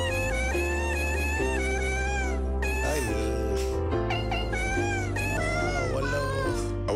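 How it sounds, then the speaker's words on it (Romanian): A novelty song built from cats meowing, played over the radio during a live broadcast, with layered, pitched meows and caterwauls repeating in a sung melody over a steady musical backing, loud and continuous. "Mai dai o dată cântecelul ăla? Cu pisicile?"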